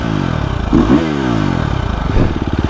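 A 2025 KTM 350 XCF four-stroke dirt bike with an Akrapovic pipe and a still-breaking-in engine revs loudly up close, its pitch climbing and dropping in quick blips before settling into a steady chugging idle.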